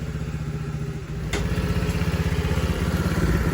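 Honda CT70 K3 motorcycle engine idling close by, a rapid steady putter with a small bump in speed partway through, no talking.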